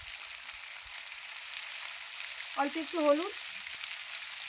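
Potato pieces frying in hot oil in a pan give a steady, close, even hiss throughout, and a brief spoken phrase rises over the sizzle partway through.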